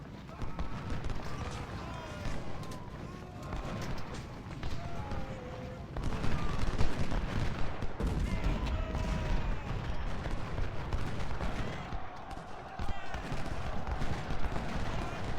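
Musket volleys and artillery fire in Ultimate General: Civil War rattle on continuously, with crackling massed gunshots, deeper booms and distant battle clamor layered throughout.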